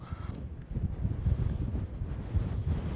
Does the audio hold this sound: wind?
yes